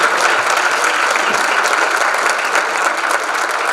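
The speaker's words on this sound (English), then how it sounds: "let's have a big round of applause for Nina and everybody who put this together here" A crowd at the Lapeer Citizen of the Year Awards breaks into loud, sustained applause. The clapping stays dense and even throughout, close and filling the room, with no speech over it.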